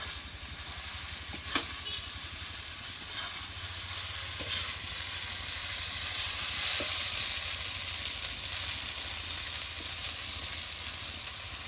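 Boiled chow mein noodles stir-frying in a hot wok, giving a steady close sizzle with a few sharp spatula knocks and scrapes throughout.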